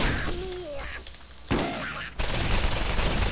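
Gunfire in the video game Borderlands comes as dense bursts of rapid shots with thuds and impacts. It is loud and continuous, cuts off briefly in places, then returns under game sounds and a faint voice.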